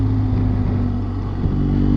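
BMW GS Adventure motorcycle engine on narrow Welsh country lanes, a steady low rumble with strong harmonic hum, close and continuous throughout.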